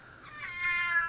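A cat gives a single drawn-out meow indoors, clear and fairly close, rising and holding for about a second with no voices over it.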